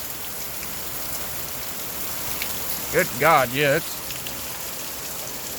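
Heavy rain pours steadily outside a shop, a dense hiss that fills the whole stretch, while someone speaks briefly partway through.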